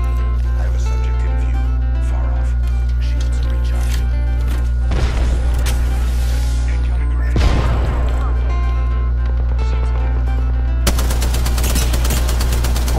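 In the video game Apex Legends, gunfire comes in a few sharp bursts over a constant low game hum, ending with a rapid automatic volley, while a voice talks over it.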